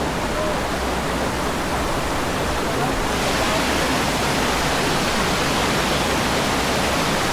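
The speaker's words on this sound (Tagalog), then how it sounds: "Ito ng falls. Alaksan Falls number 1." Steady, full-bodied roar of Alaxan Falls, one of the seven falls, rushing water filling every register without a break, loud and close throughout with no talking.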